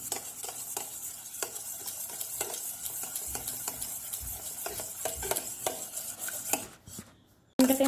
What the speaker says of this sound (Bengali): আমি চামচে করে ব্লেন্ড করে নিলাম ডিমটাকে ভালো করে